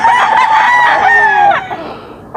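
A Lemon Boston gamefowl rooster crows once, loud and very close, a full rising-and-falling call lasting about two seconds before trailing off into quiet.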